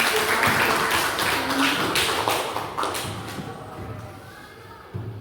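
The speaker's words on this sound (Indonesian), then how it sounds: "beri aplaus untuk semuanya." Students in a school classroom applaud together during a guidance counseling session, a dense burst of clapping that is loudest at the start and gradually thins out over about five seconds.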